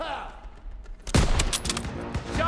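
A sudden loud burst of rifle fire erupts in a Call of Duty WW2 campaign battle, following a quiet lead-in, with rapid follow-up shots and some speech mixed in.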